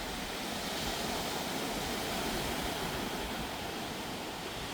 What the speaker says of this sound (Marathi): तुम्ही बघू शकता लाटा किती जोरात येत आहेत बघा.